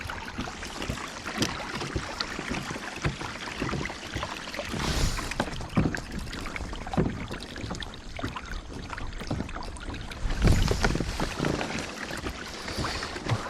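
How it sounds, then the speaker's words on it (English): Water splashes and drips as a kayak paddle dips rhythmically, with louder strokes now and then over a soft outdoor background. "I'm gonna try and paddle past."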